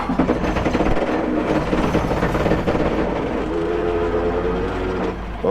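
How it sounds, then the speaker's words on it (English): A tractor working a mountain ranch road during road maintenance gives off loud, sustained squealing and grinding from its brakes over the rumbling engine, heard close up with no talk. "you can hear those brakes"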